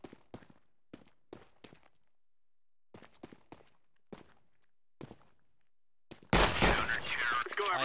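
P2K pistol shots in a video game arrive as sharp, isolated cracks in small irregular bursts, separated by quiet gaps, before a loud burst of noisy sound at the end.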